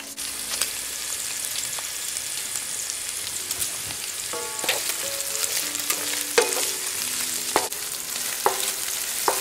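Chopped onions go into crispy frying pork in a backyard cooking pan for Filipino pancit bihon, with a steady close sizzle broken by several sharp clinks and scrapes of a stirring utensil.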